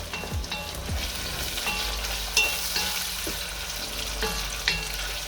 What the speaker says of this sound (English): you can go in with the onion and garlic.